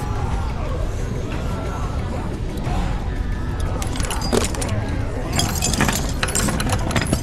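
Metal chains looped through a ring welded to a floor are yanked and rattled in The Walking Dead: 400 Days video game, giving repeated clinking jangles that build toward the end while people talk over them.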